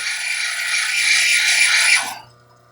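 A stone is ground smooth against a wet grinding wheel, producing a loud, steady rasping hiss over a low motor hum that cuts off abruptly near the end, leaving only the hum.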